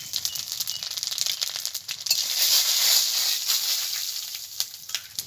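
Dried chili and whole spices sizzle in hot mustard oil, a steady bright hiss with crackling spits that swells midway and then settles, close and alone.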